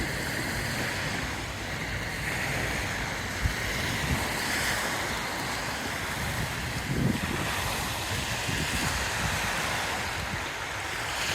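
Waves wash onto the beach at Le Barcarès with wind gusting across the microphone, a constant broad roar of surf swelling faintly now and then, no voices.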